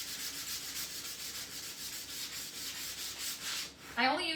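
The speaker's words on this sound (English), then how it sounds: "So now we're just going to take a 220 grits, smooth these out." Rhythmic back-and-forth rubbing of 220 grit sandpaper smoothing a DIY home decor piece, close and steady strokes that stop near the end with a short clatter.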